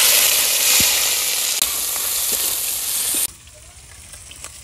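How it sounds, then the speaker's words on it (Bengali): Shrimp hitting hot oil in a wok crackle with a loud, bright sizzle and a few utensil taps, then the hiss abruptly drops to a much quieter simmer near the end; no one speaks. "কড়াইতে তেল দিয়ে দিলাম, চিংড়ি মাছ দিয়ে দিলাম"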